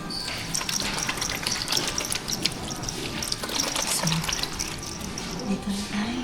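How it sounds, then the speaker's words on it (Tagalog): A tap runs in an airport toilet in Qatar as hands are washed beneath it, giving a continuous, fairly loud hiss and splash of water that lasts throughout. "And hugas muna tayo ng ating kamay."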